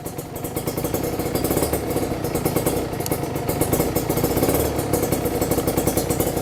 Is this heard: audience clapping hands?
no